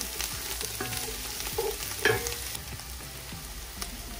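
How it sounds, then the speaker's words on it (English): Vegetables stir-frying over high heat for chicken lo mein, a continuous hiss with repeated scrape-and-toss strokes and a brief metallic clank midway, heard alone. "So the idea is babysit and keep on stirring."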